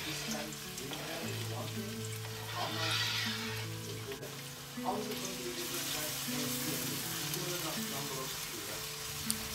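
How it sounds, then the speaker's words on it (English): Onions sautéing in hot olive oil in a pan, a steady soft sizzle and crackle running throughout with faint clinks and background kitchen noise. "once the oil is hot, add in the onions and slowly let them sauté until they're translucent"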